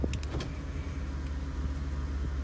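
Electric one-touch windows on a 1991 BMW 850i whir down inside the car, a steady low motor drone running through the short stretch, with a couple of brief clicks near the start and no talking.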